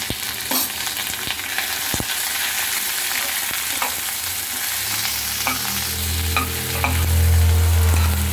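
Onions and green chilies sautéing for a ginger tomato chutney, a loud continuous sizzle with scattered stirring scrapes and a low hum rising toward the end, no voices.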